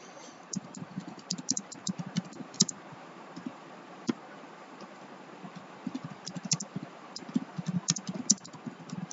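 A computer keyboard is typed on steadily for several seconds, with irregular clusters of soft clicks and taps at close range and no voice over them.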